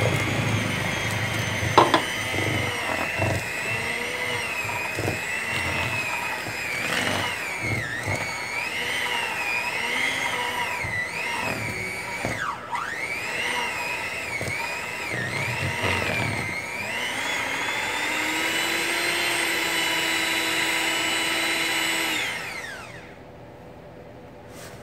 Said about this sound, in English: Make the blender work for it.